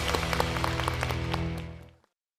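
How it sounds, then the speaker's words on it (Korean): A studio audience claps enthusiastically at the start of a lecture on drug addiction, a dense burst of many hands that fades out after about two seconds. "박수 부탁드립니다"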